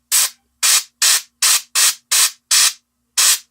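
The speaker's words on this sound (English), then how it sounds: "I'm going to spray back inside that cape" Short bursts of spray paint hiss onto the inside of a miniature figure's cape, eight sharp, even puffs close up with brief pauses between them.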